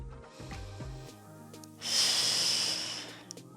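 Heavy breathing from someone holding a side plank during a pregnancy and postpartum workout: a couple of short nasal snorts, then a long, strong, breathy exhale, close to the mic with no talk.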